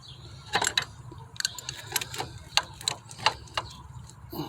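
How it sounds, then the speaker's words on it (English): A crescent wrench works an EGR pipe nut on a Ford Freestar, giving close, irregular metallic clicks and light scrapes in short bursts against a quiet background. "you're going to have to stick your crescent wrench back in there gently, however you can, and kind of turn it in there."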